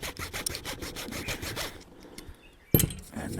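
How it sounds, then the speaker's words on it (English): A blunt hand saw cutting angled incisions in a wooden swimbait lure, rapid rasping back-and-forth strokes close up, then a pause and a sharp knock as cutting resumes. "We're going to try and finish these incisions with the saw and get the angles right."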